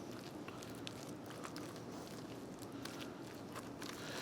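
Quiet, steady scraping and soft squelching as ricotta gnocchi dough is worked together with finely grated Parmesan in a bowl, close and low in level, with no speech.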